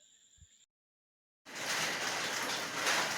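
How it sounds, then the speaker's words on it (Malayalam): Heavy rain pours steadily outside during a prolonged monsoon downpour, a dense, loud continuous hiss that begins abruptly after a short silence and holds evenly to the end, preceded by a brief tonal beep. "രണ്ടു മൂന്ന് ദിവസമായി മഴ പുറത്തിറങ്ങാൻ പറ്റാത്ത മഴ"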